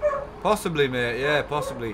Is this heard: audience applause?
no